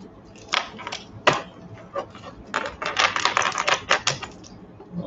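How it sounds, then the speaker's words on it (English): A deck of tarot cards cut and shuffled up close, a rapid series of crisp riffling clicks and flutters in uneven bursts, with brief pauses between shuffles. "Just let me cut the deck a little bit and do some shuffling"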